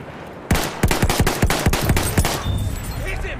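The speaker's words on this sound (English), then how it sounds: "Enemy machine gun!" Machine gun fire in Battlefield 1 rings out as a loud close burst of rapid shots in quick succession, then breaks off into lingering echo and background din.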